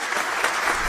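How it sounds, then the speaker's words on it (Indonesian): A stage audience at a contestant introduction claps in a brief, dense burst of many hands that lasts under a second. "Mari kita sambut dengan tepuk tangan meriah."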